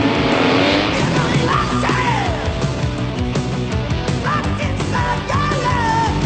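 A customized futuristic turbo motorcycle roars loud and unbroken, with tire squeals and skidding cutting through the engine noise.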